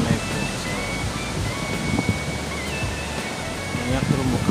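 Waves wash onto a coral-fringed beach at Pantai Karang Tawulan in Pangandaran, West Java. The surf rushes in a steady broad hiss, near and loud, under a voice.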